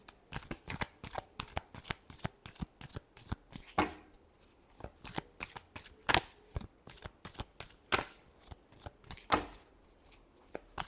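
Tarot cards are shuffled in a steady run of crisp riffling flicks, close and fairly quiet, repeating without talk.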